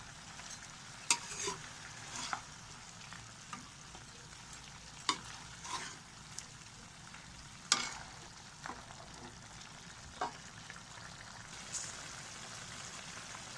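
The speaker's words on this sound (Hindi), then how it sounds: "इसे हम दोबारा 2-3 मिनट के लिए फ्राई करेंगे ताकि टमाटर जो है वो अच्छे तरीके से इसके अंदर हल हो जाए" Tomatoes frying in a pan, a quiet steady sizzle broken by scattered sharp pops and spatula clicks every second or two, close and alone with no talking.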